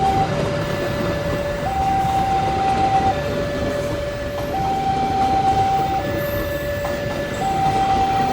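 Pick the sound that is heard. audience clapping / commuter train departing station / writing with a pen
commuter train departing station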